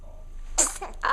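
A baby's sneeze, a short sharp burst close by, followed by a second smaller sneeze-like puff, indoors with a quiet background.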